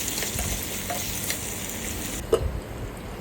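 Potatoes cut in French fry style sauté in a pan, giving a soft, steady sizzle with quiet stirring and one brief utensil knock near the end, with no speech.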